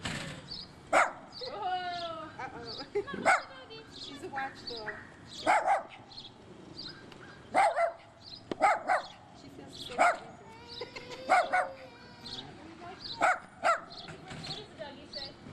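A dog barks repeatedly in short sharp bursts, loud and nearby, with yips and whimpers between them while people talk throughout.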